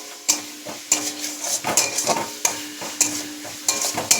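Spiced tomato masala fried in oil in a pan as a spoon stirs it, giving a steady rhythm of scraping, clinking strokes about every half second over a soft sizzle, close and fairly loud, with no talking.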